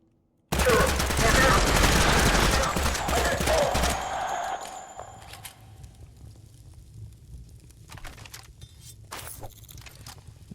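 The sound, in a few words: rapid gunfire from a video game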